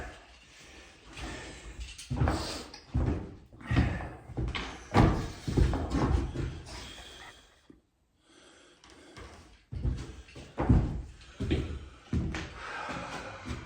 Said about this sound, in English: New patio doors right there.